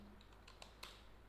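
Typing on a computer keyboard while coding a React.js quiz app: a few faint, scattered key clicks over a quiet background hum, with an irregular rhythm.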